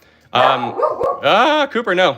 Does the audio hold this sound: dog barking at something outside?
yes